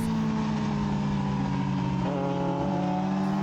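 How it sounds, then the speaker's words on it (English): Yamaha R6 sport bike engine held at steady high revs during an amateur open sprint race, a continuous loud harmonic drone with a slight pitch dip near the end, no voices. "I had to downshift since the bike was bugging down under acceleration"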